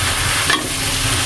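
A spoon stirs water lily stems cooking in a pan, making a short, loud, steady sizzle with a brief scrape in the middle.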